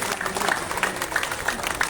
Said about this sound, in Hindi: महिलाएं देखो कितनी अच्छी तालियां बजा रही हैं